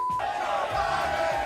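A race crowd at Talladega Superspeedway roars and chants together, a dense, sustained mass of voices from a distance with a held tonal shout running through it.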